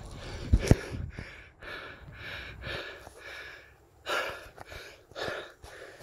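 Heavy, labored breathing while climbing, close to the mic, a series of gasping inhales and exhales with a couple of sharp bumps at the start.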